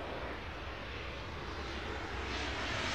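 Airplane engine noise in the Airport Madness World Edition airport game, a steady loud broadband roar that swells slightly toward the end, with no voices.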